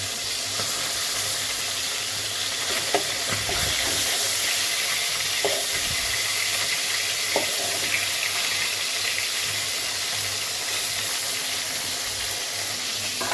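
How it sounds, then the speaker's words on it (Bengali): Fish sizzles steadily in hot oil in a pan, a loud, continuous, dense frying hiss with a few faint clinks and scrapes surfacing now and then. "মাছটা আমি ভেজে নিচ্ছি"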